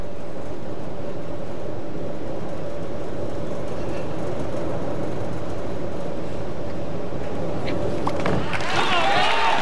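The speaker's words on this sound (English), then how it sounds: "so occasionally you'll hear a train" A train rumbles past outside a bowling arena during a 1996 televised professional bowling championship, a low, continuous roar that swells toward the end under steady commentary.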